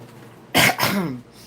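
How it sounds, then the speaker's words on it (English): One close, sharp cough followed by a raspy throat clearing, brief and loud against a quiet room. "Trying to clear my throat"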